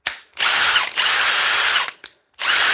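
Battery-powered wrench running in three loud, close bursts, the first and longest lasting under a second and the second about a second, separated by short gaps, with a brief blip between the last two.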